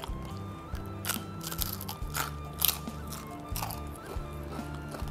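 Crunchy head of a fried mujair fish, Padang style, being bitten and chewed up close, with a series of irregular crisp crunches and crackles over a low background.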